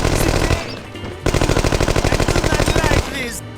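Rapid automatic gunfire from the spy shooter No One Lives Forever 2 during a vehicle chase: a loud, close burst of evenly spaced machine-gun shots hammering for nearly two seconds, framed by heavier blasts and game noise.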